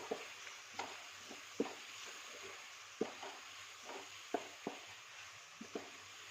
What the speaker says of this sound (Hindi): 2 से 3 मिनट तक हमने मसालों को भी अच्छे से फ्राई करना है, भूनना है, अच्छे से पकाना है